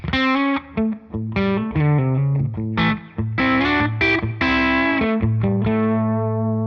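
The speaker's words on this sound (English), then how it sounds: "So if I turn this reverb on" Distorted electric guitar from a Tonex tone model playing a melodic line with sustained notes, washed in a roomy reverb tail that lingers between phrases; loud and continuous.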